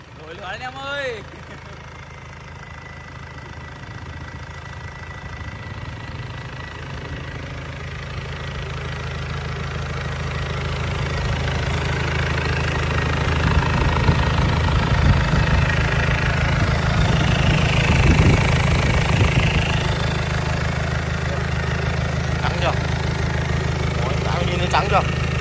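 An Isuzu 4JB1 diesel engine cranks and fires, then settles into a steady, loud running rumble with a low knocking hum that swells slightly partway through, and voices talk faintly over it.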